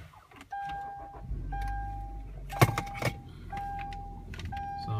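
A 2011 Kia Sorento EX is switched on from inside the cabin: steady electronic warning chimes repeat over a low idle-like hum, with a couple of sharp clicks and rustles near the middle, close up and without talking.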